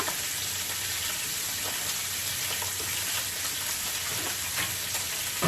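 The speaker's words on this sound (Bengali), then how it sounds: "মাছ ভাজা হয়ে গেছে" Fish pieces fry in hot oil, making an even, fairly soft hissing sizzle that carries on without a break and with no voices over it.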